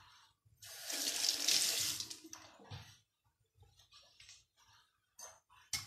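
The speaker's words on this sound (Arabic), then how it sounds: "نغسل يدينا" Tap water runs into a kitchen sink while hands are rinsed during cooking, a loud splashing burst near the start that drops to quieter intermittent trickles and spurts.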